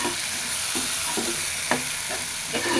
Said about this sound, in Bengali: এবার এতে হালকা পরিমাণে জল দিব যাতে মশলাটা কষে যায়, মশলাটা কষানোর জন্য